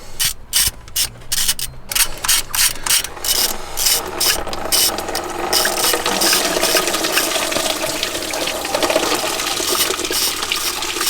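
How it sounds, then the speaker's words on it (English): A ratchet removing the thermostat from a 1988 Toyota pickup 3.0 engine, with a rapid series of close, loud clicking strokes followed by continuous ratcheting and mechanical rattling. "I'm going to start with tearing off the thermostat"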